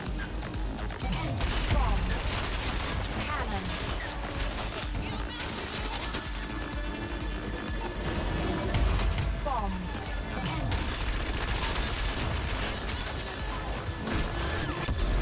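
Explosions and weapon fire from bomb-armed racing craft in the futuristic racing game Wipeout Omega Collection, 2048 campaign, with repeated loud crashes and blasts over a dense, continuous bed of racing noise and music.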